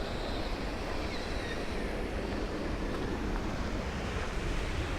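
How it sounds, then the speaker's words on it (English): Fast-moving water rushing over a waterfall in a canyon, a dense, steady roar filling the whole clip, close and loud with wind noise on the microphone and no pauses or talk. "That water's moving fast. The water's moving real fast."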